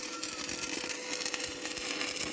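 Electric welding on a part of a Class 51 baler under repair: a steady, dense crackling sizzle that runs continuously throughout at close range, with no talking.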